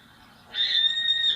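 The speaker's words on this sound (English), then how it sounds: "We probably won't see a water owl. It's a very elusive bird, but I've put it in here really just for the sound effect." A played recording of a water rail calling, a harsh squealing screech that starts abruptly partway through and holds steady at moderate loudness to the end, with no talk over it.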